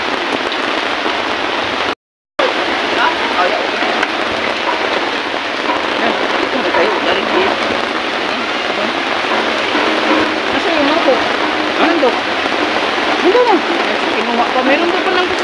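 Heavy rain pours steadily onto a surface, a dense continuous hiss with a brief dropout near the start, loud and close throughout.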